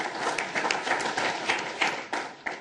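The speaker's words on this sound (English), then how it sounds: "That's the first applause for a panelist today" Panel audience gives a brief round of applause for a former Green Bay mayor, a dense wash of many hands clapping at moderate loudness, with a few sharper individual claps near the end.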